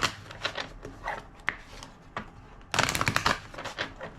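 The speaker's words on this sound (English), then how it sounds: "Two more shuffles." Tarot cards shuffled by hand in a quiet room, giving soft riffling bursts and dry flicks, a few isolated card taps, then a louder, denser run of shuffling near the end.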